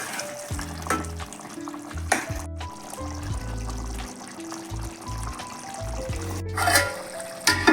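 Mutton curry with garam masala and fresh coriander being stirred in a pan, a thick, wet sizzle with scraping spoon strokes and brief bursts, close and fairly loud, with no talking.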